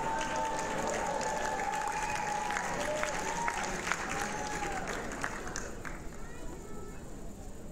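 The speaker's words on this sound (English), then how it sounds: "Let's give them a warm applause." Audience applause at a 2018 conference, a broad sustained clapping under a faint whistling tone and some crowd babble, steady throughout and thinning slightly toward the end.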